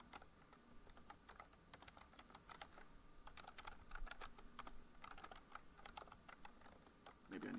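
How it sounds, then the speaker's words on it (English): Rapid, uneven typing on a computer keyboard, a dense run of light clicks close by with brief pauses, no talking over it. "I can't type and talk at the same time."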